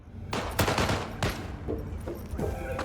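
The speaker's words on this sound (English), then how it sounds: "I hear gunshots, but there's no actual" Rapid bursts of gunfire from the video game Cyberpunk 2077, with a dense volley of shots early on, then scattered single cracks that repeat at irregular intervals against a steady background.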